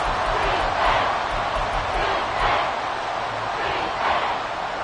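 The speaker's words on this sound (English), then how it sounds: "This crowd turning up the decibel level." Stadium crowd in a Madden football video game roars in a continuous, loud wash of cheering and noise, swelling in a few broad surges, with no clear voices standing out.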